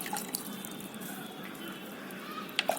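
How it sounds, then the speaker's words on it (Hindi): Water poured gently onto a seedling tray for a kitchen garden, a soft faint trickle with a couple of small drips near the end. "ये देखिए मैंने पानी डाला तो ये ऊपर आ गया है"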